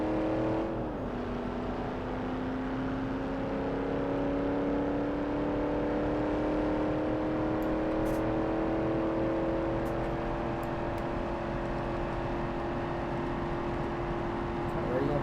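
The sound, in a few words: 1968 Dodge Coronet Super B engine revving in BeamNG.drive video game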